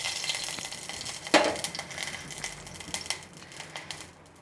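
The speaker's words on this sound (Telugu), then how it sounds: "పరమాన్నంలోకి జీడిపప్పు కిస్మిస్ వేయించుకుందాం." Cashews and raisins frying in ghee in a pan for paramannam, a soft crackling sizzle with occasional clinks of stirring, close and fairly quiet.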